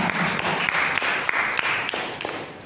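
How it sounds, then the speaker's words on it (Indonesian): A class of students claps hands in a soft, scattered round, with individual sharp claps standing out at irregular intervals against a steady patter. "tepuk tangan sekali lagi untuk siapa?"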